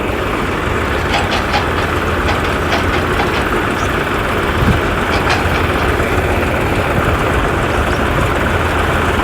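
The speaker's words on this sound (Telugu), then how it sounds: "చూస్తున్నారు కదా ఎన్ని ట్రాక్టర్ వర్క్ చేస్తుందో అసలు." Many tractors work together at the Iconic Tower 5 construction site in Amaravati, making a loud, continuous engine drone with a steady low rumble and occasional faint clanks over the top.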